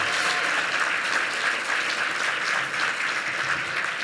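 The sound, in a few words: audience applause at an awards gala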